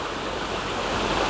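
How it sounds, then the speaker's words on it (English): Steady rushing water with a constant broadband wash, a small stream flowing close by on the Appalachian Trail, with no voices. "here's a nice little water feature"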